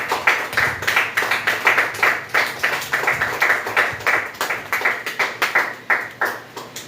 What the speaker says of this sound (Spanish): Un aplauso al Señor nuestro Dios en esta hermosa mañana.